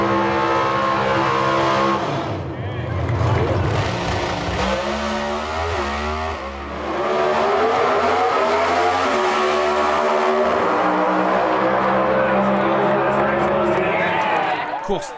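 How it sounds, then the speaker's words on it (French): Two Pro Stock drag race cars in a final run, a loud roar of high-revving engines climbing and shifting, with a commentator talking over it. "Voici la grande finale Pro Stock entre Erica Enders et Jake Coughlin Jr."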